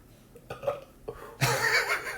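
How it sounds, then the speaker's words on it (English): A single loud, close burp erupts partway through, following a few quieter throaty sounds before it. "It drew a burp out of me."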